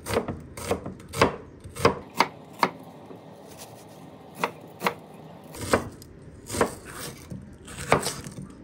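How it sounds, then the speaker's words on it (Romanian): Onions and peppers chopped finely on a board, a quick series of crisp knife knocks in uneven bursts, close and clear with no talking. "Ceapa și ardeii se toacă mărunt."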